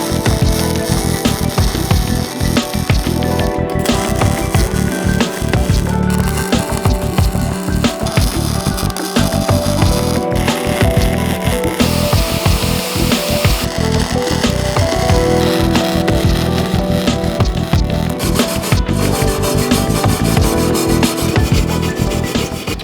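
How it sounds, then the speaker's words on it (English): Wire-feed welder laying tack welds on a cart built from an old bed frame, a loud continuous crackling, sizzling buzz that holds steady throughout with brief interruptions. "I'm going to take this and make sure this is flat and give this thing a couple of tackaroonies"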